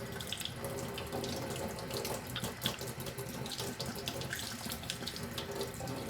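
A kitchen or bathroom tap runs steadily as the water is left to warm up, giving a continuous, close splashing rush into the sink with no pauses or talk.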